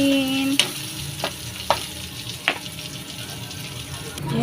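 Onions frying for ginataang tilapia, a soft steady sizzle broken by a few sharp clinks of a utensil stirring the pan, close and fairly quiet.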